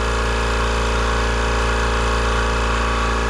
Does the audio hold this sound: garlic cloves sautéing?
no